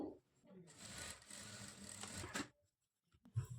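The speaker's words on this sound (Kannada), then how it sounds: "ಎರಡೂ ಕಡೆಯೂ ಈ ಥರ ಡಾಟ್ಸನ್ನು ಸ್ಟಿಚ್ ಮಾಡಿಕೊಳ್ಬೇಕು" A sewing machine stitches darts on a blouse, a steady whirring run of about two seconds that stops abruptly, followed by a pause and a few faint clicks and handling sounds.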